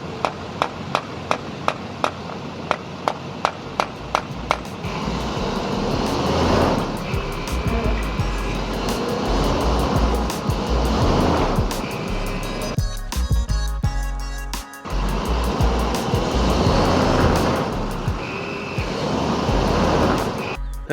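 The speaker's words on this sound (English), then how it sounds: "The rear tires are already spinning." An RV stuck deep in mud spins its rear tires. A loud, churning engine roar and a splattering rush rise and fall in several long bursts, after a few sharp knocks at the start.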